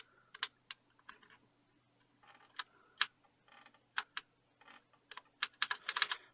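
Keys clacking on a Corsair K65 mechanical keyboard with red switches, sharp irregular keystrokes in short bursts with pauses between them, close and clear with no talking.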